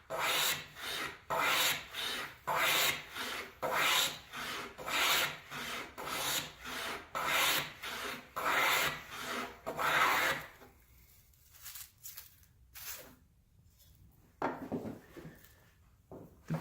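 Cock bead hand plane cutting a bead into a wooden workpiece: about a dozen even, rasping strokes in a steady rhythm, close and clear, then a pause and a few quieter scrapes.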